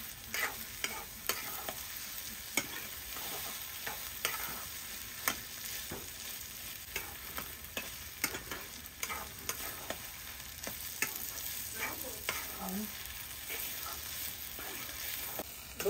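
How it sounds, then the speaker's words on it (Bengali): Dried chepa shutki fish frying with onions in a pan, stirred with a utensil, gives repeated scraping clacks over a constant soft sizzle, close up and steady throughout, with no speech. "পেঁয়াজের সাথে ভালোভাবে মিলিয়ে নিতেছি।"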